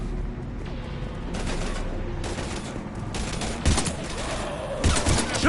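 Rapid bursts of gunfire from the video game Mass Effect 3 form a loud, continuous fusillade, with heavier booming shots near the end.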